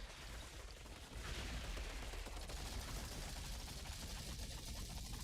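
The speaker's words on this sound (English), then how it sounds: "my pistols are absolutely fucking shredding through people's health" Pistol gunfire in the video game Outriders: rapid, dense shooting that continues throughout, moderately loud with a busy backdrop of combat noise.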